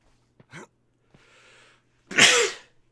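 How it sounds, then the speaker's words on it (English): A single sharp sneeze in a Broken Sword: The Sleeping Dragon game scene, preceded by a couple of small breathy catches and a soft inhale, loud and close. "Oh, I just stopped sneezing."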